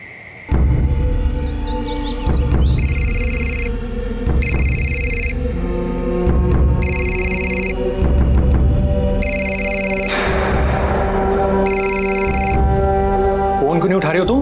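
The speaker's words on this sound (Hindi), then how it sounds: "फोन क्यों नहीं उठा रही हो" A phone rings unanswered in a tense drama scene: five evenly spaced electronic ring bursts sound over dramatic background music, with speech present.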